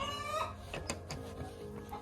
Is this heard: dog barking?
no